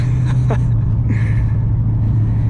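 A VT 5L car engine under way, giving a steady deep rumble and drone that fills the whole clip at close range, with a few brief higher mechanical whines over it and no speech.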